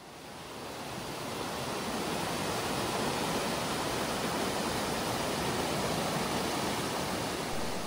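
Steady rushing water fills the air at Ladies Bath Falls in the Victorian High Country, Australia, a dense, constant roar of falling water that swells slightly at first and then holds even.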